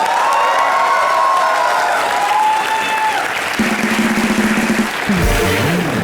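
Studio audience on a live Hindi comedy show breaks into sustained applause and cheering, a dense clapping wash that fills the whole stretch, with bits of voices and music rising near the end.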